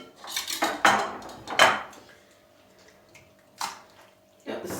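Metal pot clanks and scrapes in a few sharp bursts as stuffed vine leaves and dolmas are arranged in it, with quieter handling noise and a faint hum between them.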